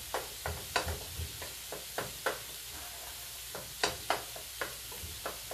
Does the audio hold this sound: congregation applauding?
no